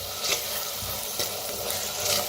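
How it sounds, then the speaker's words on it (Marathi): Ground garlic and green chili paste fries in a pan for a bitter gourd dish, giving a steady close sizzle with light stirring scrapes throughout. "आता लसूण हिरवी मिरची वाटून घेतली होती ती मी. तर करून भाजून घेऊया."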